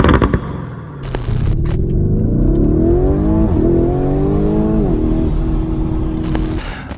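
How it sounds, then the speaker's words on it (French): A Lamborghini Urus engine fires up with a sharp start, then revs repeatedly, pitch climbing and dropping in loud throaty surges close by. "Le bruit que ça fait quand on démarre le moteur,"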